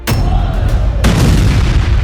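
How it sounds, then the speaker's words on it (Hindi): A single loud, close boom erupts on board a Boeing 737 airliner at 24,000 feet, sharp onset followed by a sustained roaring rumble and a second burst about a second later. "और अचानक एक जोर का धमाका होता है"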